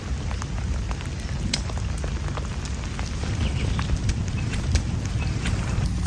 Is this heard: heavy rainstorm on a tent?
yes